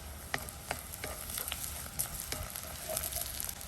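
Two green chillies go into softened onions frying for chicken liver pepper, giving a quiet, close sizzle with light scraping stirs and several small pops scattered across the short stretch, no talking.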